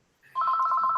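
A home telephone rings with a steady electronic warble that starts abruptly and continues loudly, with no voices over it.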